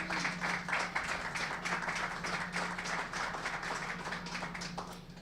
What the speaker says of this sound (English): Nice round of applause for Patty DeRozier.